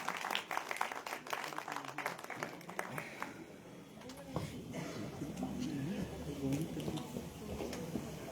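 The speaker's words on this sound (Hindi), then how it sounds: "आप सभी जोरदार तालियों से स्वागत करें।" Applause from the crowd at an event welcoming a guest, a burst of clapping that fades and then rises again into a broad, distant wash, with some talking mixed in.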